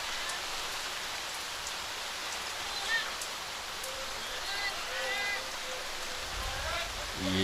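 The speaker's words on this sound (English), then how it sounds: "It's just bucketing down. There's no relief." Heavy rain pours steadily on an outdoor lawn bowls green during a premier division match, a loud, dense, even hiss with faint voices beneath.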